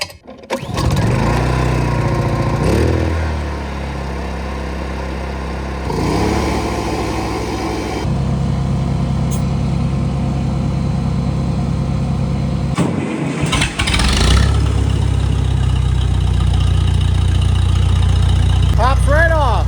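An engine on a hay farm, unused for about three months, starts and runs loudly and steadily close by, with brief dips and restarts in its note, while a person talks over it.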